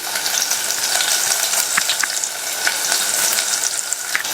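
Small shallots and curry leaves fry in hot oil in a pan, a loud, steady crackling sizzle with scattered sharp pops and a few light stirring scrapes, heard alone with no voices.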